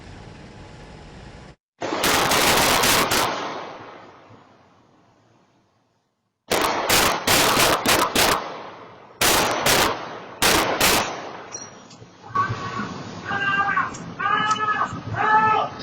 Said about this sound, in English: security camera that recorded the gunfire